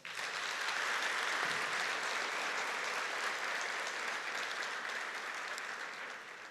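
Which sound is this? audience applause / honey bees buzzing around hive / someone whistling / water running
audience applause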